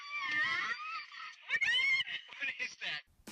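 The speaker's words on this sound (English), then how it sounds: "You can hear the kids crying." Young children cry and scream inside a family minivan, a close, high-pitched, strained wailing that rises and breaks in uneven bursts, with short gaps between outbursts.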